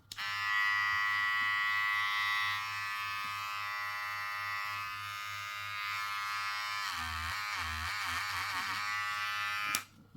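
A VGR V972 electric hair trimmer runs with a steady, close, loud buzzing hum for about ten seconds, its tone wavering partway through before it cuts off.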